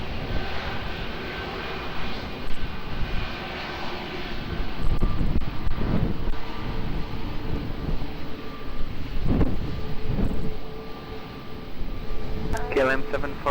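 Airplane engines at Lisbon Airport on runway 20 under gusty wind, a steady distant roar with swelling rumbles and wind buffeting the microphone, with faint radio chatter near the end.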